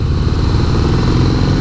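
A steady, low engine rumble from a 2017 Harley-Davidson CVO Breakout with stock exhaust idling close by, a continuous throaty growl with no voices.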